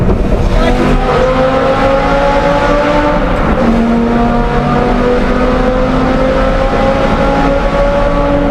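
A Lamborghini Gallardo engine drones loudly and continuously while driving on a road trip, its tone rising slowly with gear and speed changes and heavy road and wind roar underneath.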